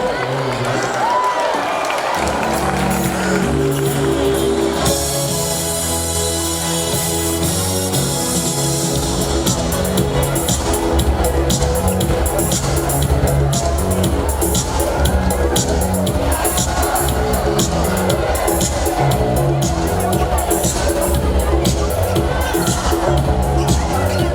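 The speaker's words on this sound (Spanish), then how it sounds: "Aplauso para eles" A carnival crowd of students breaks into loud, sustained applause and cheering, with whoops and shouts over dense clapping that swells after a brief quieter start and keeps going at full level. Voices mix into the din.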